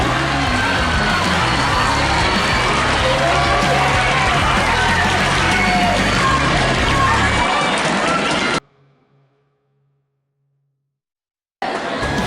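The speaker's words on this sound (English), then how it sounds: "Give all these kids a round of applause." A school audience applauds and cheers the students of the month, a loud, dense wash of clapping and children's shouts that cuts off abruptly to silence.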